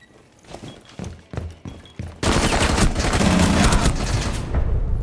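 In Rainbow Six Siege, a few scattered thuds lead into a sudden loud grenade blast whose roar and debris rumble carry on to the end.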